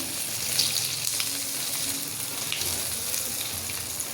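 Hot oil hisses and crackles in a steady, moderate sizzle as a tempering is poured over rava dhokla, with no voices.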